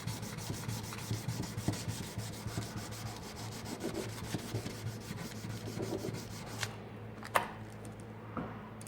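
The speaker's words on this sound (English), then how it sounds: "I finally got the blade sanded to 800 grit on both sides" A knife blade is hand-sanded with steady back-and-forth rubbing strokes, quiet and close. A few sharp taps near the end break the rhythm.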